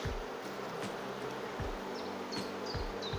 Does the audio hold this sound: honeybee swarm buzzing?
yes